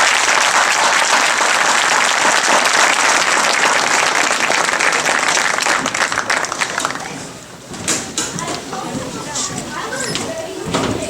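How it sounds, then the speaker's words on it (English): A crowd at a community rally for the Deckerville Eagles 8-player high school football state champions applauds loudly and steadily for several seconds before the clapping thins and fades out, with some voices rising as it dies down. "So if you want to give Nord Schramm a great round of applause."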